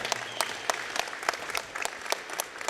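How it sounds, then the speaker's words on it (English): Applause for the judge at a spring breed show, with a thin crowd clapping steadily and a few sharp, distinct claps standing out near the microphone throughout. "let's give a round of applause to our judge, Callum McKibben"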